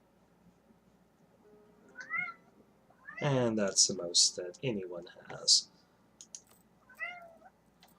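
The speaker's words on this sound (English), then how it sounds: "I have some mouthy kitties" Several pet cats meow at a distance between speech, with short mewing calls near the start and end while a person talks in the middle.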